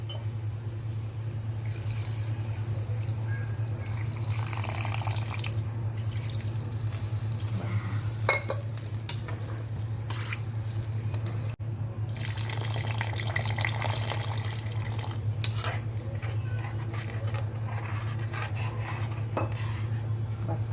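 Water splashes and trickles into a pan of frying drumstick and potato amid clinking utensils over a steady low hum, with sizzling bursts rising and falling for about twenty seconds.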